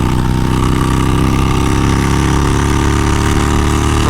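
A Harley-Davidson Sportster 48 motorcycle cruises at highway speed, its engine a steady, loud, close drone holding constant pitch for the whole stretch without speech.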